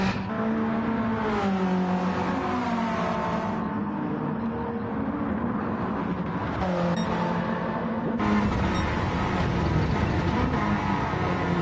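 A race car drives out onto the track, its engine a steady, loud droning whine that rises and falls in pitch as it accelerates, continuous for the whole stretch with no talk over it.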